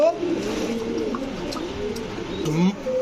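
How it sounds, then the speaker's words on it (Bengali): Large pigeons coo close by, low and throaty, with a faint chirp here and there. Someone talks over the birds. "বিশাল সাইজের কবুতর।"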